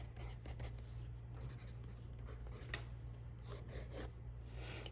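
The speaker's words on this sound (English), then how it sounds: "So I'm gonna write" A colored pencil writes graffiti-style letters on paper, making soft scratchy strokes in short bursts over a low steady hum, quiet and close, with no talking.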